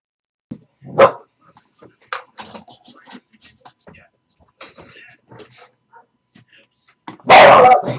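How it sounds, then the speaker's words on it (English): Neighborhood dogs barking outdoors: one sharp, loud bark, scattered softer yips and noises, then a loud burst of barking at the end. "Neighborhood dogs, they start barking."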